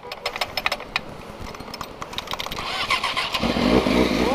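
A motorcycle engine cranked with its electric starter: rapid rhythmic starter chatter that catches and rises into a loud, steady idle, close by.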